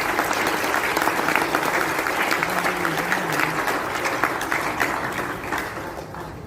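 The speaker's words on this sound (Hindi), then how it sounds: "वो जोरदार तालियां हो जाए आपके लिए।" Loud, sustained applause from an audience at a leadership training session in Nainital, dense clapping filling the whole stretch and tapering slightly at the end, with no talk over it.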